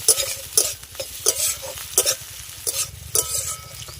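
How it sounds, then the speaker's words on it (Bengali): Chopped tomatoes with ginger and onion sizzle in a pan for tita while a spatula scrapes and stirs in repeated rhythmic strokes, loud and close. "এবার একটু নেড়ে নেবো এক মিনিট মতো"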